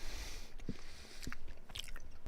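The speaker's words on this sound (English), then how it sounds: "forgive my chewing" Person chewing a handful of peanuts, quiet close crunches and bites popping out in a few separate bursts over a soft background.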